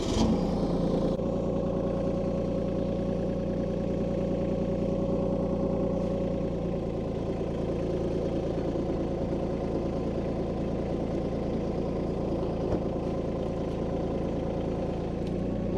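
A tractor engine runs steadily while pulling a manual cable unroller through the ground, a loud, close, continuous drone with a constant tone and no talking.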